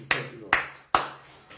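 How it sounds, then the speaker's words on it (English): Congregation at a church service clapping hands: a few sharp, separate claps spaced about half a second apart, each with a short ringing tail in a reverberant room, close and fairly loud. "Clap your hands"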